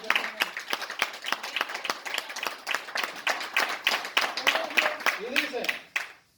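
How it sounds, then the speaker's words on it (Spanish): A church congregation claps in a steady, rhythmic beat during a sermon on the baptism of Jesus, sharp, even claps continuing for several seconds while a voice speaks over them. "Denle un aplauso al Señor, hermano."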